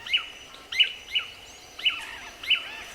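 Tangará manakin birds in the Atlantic Forest give five short, sharp, high calls in an irregular series, clear against a quiet forest background.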